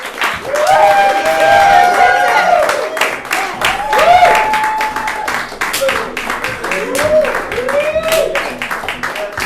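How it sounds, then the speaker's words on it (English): A crowd claps steadily and loudly throughout, with scattered cheers and voices mixed in over the applause. "a round of applause to bring up our third group"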